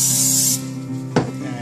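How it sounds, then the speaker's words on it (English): Palm oil sprays onto a hot grilling pan for paneer tikka in one short, loud hiss lasting about half a second, followed by a quieter stretch and a single sharp clack. "I'm going to spray some palm oil on this"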